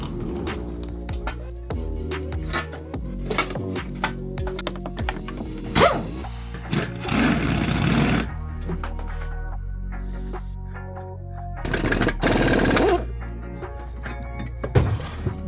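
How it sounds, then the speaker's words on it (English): Removing the primary clutch from a 1986 Yamaha Phazer snowmobile brings metallic clanks and clinks of tools, broken by two loud buzzing power-tool bursts, close by with no talking. "All right, I'll pop this clutch off"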